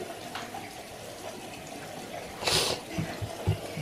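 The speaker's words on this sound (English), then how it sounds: "Come, wash your toothbrush." Tap water running briefly at a sink while a toothbrush is rinsed, a soft hiss that swells into a short gush and splashes near the end, with faint household background.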